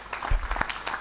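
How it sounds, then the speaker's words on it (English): Audience clapping at the close of a family justice summit session, a short burst of hand claps with a few louder thumps, heard fairly close in a hall. "So we clap now and say thank you very much."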